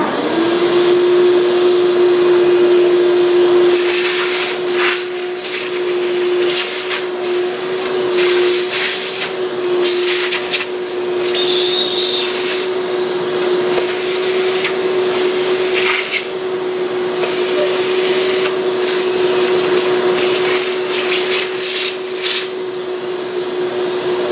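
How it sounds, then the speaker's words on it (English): A small shop vacuum runs steadily and loud for the whole stretch, cleaning debris off the exposed engine valves of a 1978 John Deere 312 lawn tractor, its hum shifting slightly as the nozzle moves. "I'm gonna fire up my little vacuum, I guess, and I'm gonna sweep all that crap off those valves."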